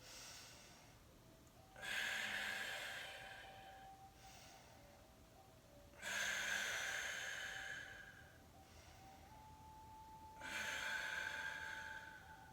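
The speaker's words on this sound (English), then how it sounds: "you're just breathing long and deep." Long, deep breaths drawn and released during a Kundalini yoga exercise, three loud breathy swells about every four seconds with quieter airflow between, close up, over a faint steady background tone.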